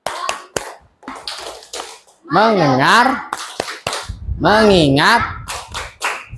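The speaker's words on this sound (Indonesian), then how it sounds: "Tepuk konsentrasi." In an Indonesian primary school classroom, a class claps a concentration pattern, with sharp claps in short sets between chanted words and a teacher's voice.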